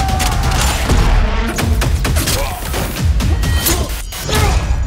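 Gunfire crackles through a Battlefield 2042 combat scene, with repeated sharp shots, thuds and crashing impacts layered densely over constant loud battle noise and a brief shouted voice.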